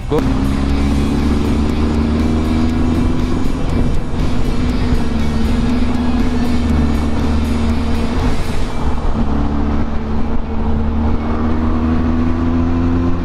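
Heavy evening traffic in Mumbai surrounds a Benelli TRK 502X motorcycle, a loud continuous wash of engines, road noise and wind, with droning motor tones shifting as the bike moves through the jam.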